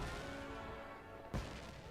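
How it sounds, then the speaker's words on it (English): Fireworks bursting in the video game Ni no Kuni, a faint ongoing rumble and crackle with one sharper boom near the end, no voices over it. "Those fireworks seem dangerously close"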